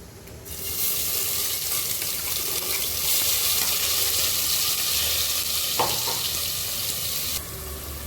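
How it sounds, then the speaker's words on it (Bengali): Spices sizzle and fry in hot oil in a pressure cooker, a steady loud crackling hiss lasting several seconds with a brief stir partway through, no talk. "মশলাটা ভালো করে কষানো হচ্ছে"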